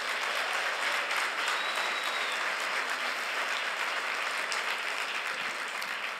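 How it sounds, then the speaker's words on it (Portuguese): A church congregation applauds during a service, a steady wash of many hands clapping at moderate volume, sustained evenly with no voices on top. "Então dá um aplauso a Jesus por isso."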